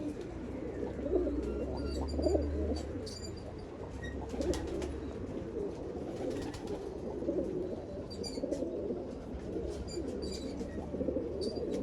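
A pigeon cooing close by in repeated low, throaty coos, with a few small chirps from other birds scattered in the background.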